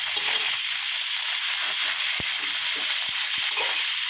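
Dry chicken suki with vegetables, scallions and sukiyaki sauce is stir-fried in a hot pan, giving a loud, steady sizzle with a few soft scraping stirs and no voices.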